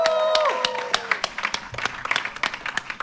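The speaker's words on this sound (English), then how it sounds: "let me hear a round of applause." Audience applause and scattered cheering fill a hall at the close of a high school debate competition final, steady clapping under a loud host voice at the start, then loose, uneven claps and whoops.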